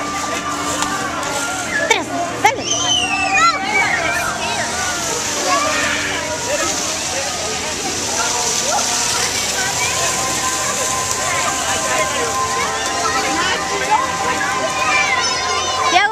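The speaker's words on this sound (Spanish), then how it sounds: "Ahí viene el agua arriba." Water jets splash and spray at a public fountain, a continuous hissing wash with sloshing bursts while children and adults shout and chatter nearby.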